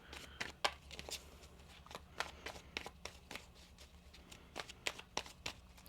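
A deck of tarot cards is riffled and shuffled in quick, soft bursts of papery flicks and taps, close and quiet, with no talking.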